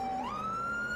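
A police car siren in the video game Police Simulator: Patrol Officers wails alone, a single rising electronic tone that climbs and holds, steady and fairly loud.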